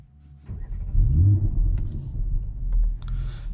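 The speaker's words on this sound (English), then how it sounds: "let's start the car with the loud start" A 2022 Mercedes GLC 43 AMG fires up with a loud cold start, a sharp crank and deep rumbling roar that settles into a heavy, uneven idle, close and alone.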